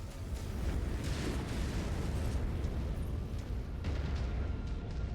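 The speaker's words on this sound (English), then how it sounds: "Incoming missile." A missile explodes in a combat video game, a dense, loud roaring rumble that stays heavy and unbroken for several seconds without fading.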